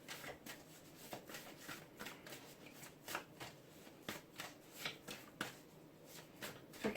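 Tarot cards being shuffled by hand, a steady run of soft papery riffles and flicks repeating through the clip at close range, with no talk over them.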